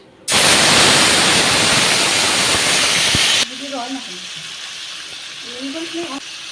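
Tomato paste hits hot oil seasoned with garam masala, dried red chilli and bay leaf, giving a loud, harsh sizzle that bursts in suddenly, holds for about three seconds, then drops to a softer crackle as a voice speaks.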